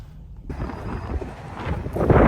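Gusty wind buffets a microphone outdoors on a cold day in upstate New York, a broad low rumble that starts abruptly and swells louder toward the end.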